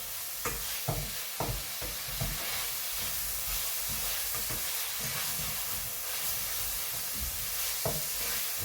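Steak basting in a pan with butter, thyme and garlic, a dense continuous sizzle and hiss punctuated by soft spoon taps and scrapes, close and steady throughout.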